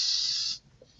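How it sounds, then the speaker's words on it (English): Soft hair spray sprayed through a wig: a single steady hiss lasting about half a second, close and fairly loud, then cutting off abruptly into quiet. "So I'm just going to spray a little bit"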